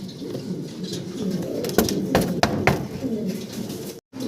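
Soft cooing of a pair of fancy pigeons amid background noise, with a few sharp clicks or knocks standing out before a brief dropout near the end.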